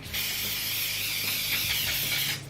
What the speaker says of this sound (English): I'm going to spray it down with some oil spray